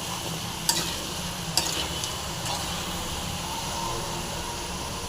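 Gooseberry pickle being stirred in a frying pan, a steady sizzle with a few sharp scrapes of the spoon against the pan, close and moderately quiet.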